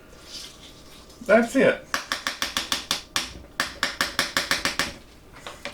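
A utensil stirs lemon poppy seed muffin batter in a bowl, making a steady run of about a dozen sharp, evenly spaced clacks after a brief spoken remark and a short louder knock.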